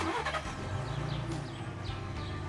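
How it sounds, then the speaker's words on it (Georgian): A 2020 Ford F-150 Raptor pickup truck engine cranks and catches, settling into a low, steady rumbling idle close by. "მოდი დავქუქოთ ჩვენი ავტომობილი"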